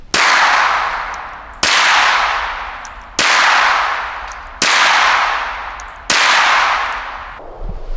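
Five loud pistol shots from a customized Girsan Hi-Power with BH Spring Solutions upgrades, firing Winchester White Box ammunition, evenly spaced about 1.5 seconds apart, each a sharp crack with a long ringing decay outdoors.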